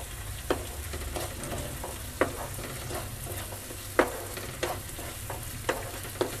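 Spices and paneer masala fry in ghee with a constant close sizzle, punctuated by regular sharp scrapes and taps of a spoon stirring the pan, no voices.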